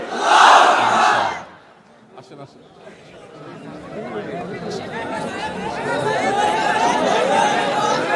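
A large gathering at an outdoor Bangla Islamic sermon gathering answering with a loud, unified shouted takbir chant, then a lingering crowd roar and murmur that swells steadily afterward.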